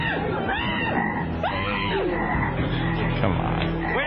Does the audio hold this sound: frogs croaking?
yes